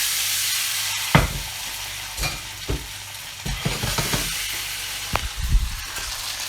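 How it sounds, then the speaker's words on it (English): Ricotta gnocchi fry in sage-infused brown butter in a pan, a steady hiss and sizzle broken by several sharp spoon clacks and stirring bursts, close and alone without talk. "Now that we've got our nice brown butter, bit of sage in it, I'm going to add the gnocchi"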